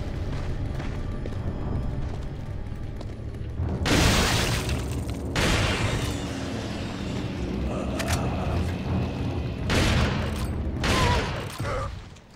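A grenade goes off in Resident Evil 4, a loud close blast with shattering debris, followed by several more sharp bursts spread across the following seconds over steady game ambience.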